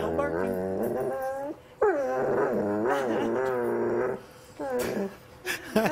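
A Doberman sings on command, producing a series of wavering, pitch-sliding howls that rise and fall in close, loud phrases, broken by short pauses and a few sharp yips near the end.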